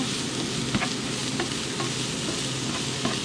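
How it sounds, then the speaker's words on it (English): Steady sizzling of onion and fried rice frying in a pan, with occasional light clicks and scrapes of stirring over the continuous hiss. "you can hear I'm keeping everything sizzling"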